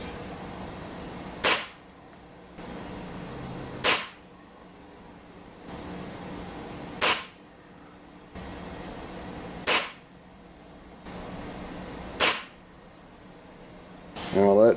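Ruger Yukon gas-piston air rifle with a SilencAir suppressor firing pellets at a target about 20 yards off, five sharp cracks spaced roughly two to three seconds apart, each with a brief decay, over a low steady background.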